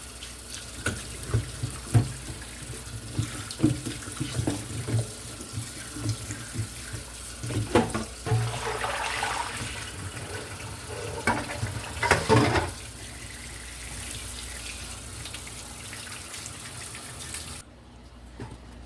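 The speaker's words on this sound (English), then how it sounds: "So let's wash everything." Tap water runs steadily into a sink while carrots and pumpkin are washed, splashing and clattering close by as the vegetables are handled, before the flow cuts off near the end.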